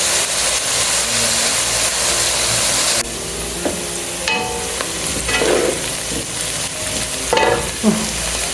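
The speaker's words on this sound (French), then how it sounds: "je vais laisser mijoter quelques petites minutes les carottes" Carrots simmer and sizzle in a pan for a home-cooked minced meat and spaghetti dish, a constant bright frying hiss joined by scattered clinks and scrapes of stirring, close and fairly loud.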